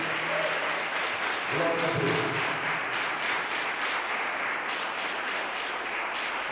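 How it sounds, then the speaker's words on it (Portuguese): A church congregation claps together during a Sunday service, a steady broadband patter of many hands that holds throughout, with a voice briefly speaking over it near the start. "Vamos aplaudir o nome de Jesus bem bonito."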